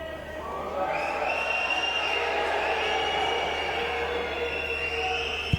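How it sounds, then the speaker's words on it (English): A football stadium crowd at a Freiburg match reacts in a sustained, loud roar with rising whistles and jeers, filling the whole moment without a pause. "you can hear what the crowd reckon about that"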